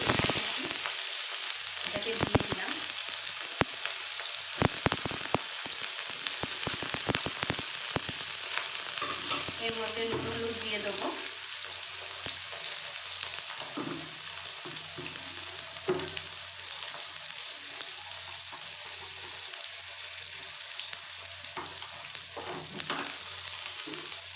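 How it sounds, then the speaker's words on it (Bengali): Small pieces of eggplant deep-fry to a crisp in hot oil with a loud, continuous sizzle and crackle, dotted with sharper pops and occasional stirring, with no voices. "আমি একটু একদম কড়কড়া করে ভাজবো বেগুনগুলোকে"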